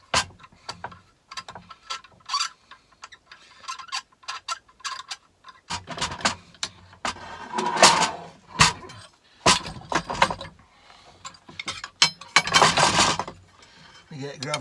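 Cap screws being whizzed out with a power tool on a laser machine part, short bursts of mechanical whirring and metallic clicks and clinks, separated by brief pauses, with a person talking between them.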